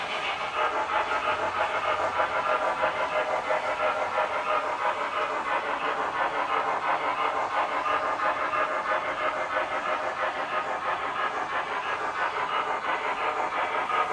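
MTH GS-4 Proto 3 model steam locomotive, pulling a heavy passenger train, gives a steady rhythmic chuffing hiss with a continuous mechanical hum, alone at an even moderate level.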